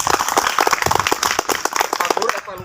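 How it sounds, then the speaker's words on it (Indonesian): A class of students claps together at the end of a long-jump practice lesson, with dense overlapping hand claps mixed with voices for a short burst. "Tepuk tangan untuk kita semua."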